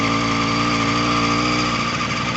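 A two-stroke engine on a small ride buzzes close and loud while rolling slowly at night, its raspy, steady drone carrying slight surges as the throttle is tapped, with no talk over it.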